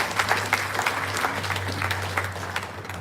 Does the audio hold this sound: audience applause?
yes